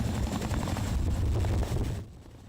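Canadian military Chinook helicopter carrying troops on a raid into Taliban territory in Afghanistan, a loud, dense rotor and engine roar with rapid chopping pulses that cuts off abruptly near the end.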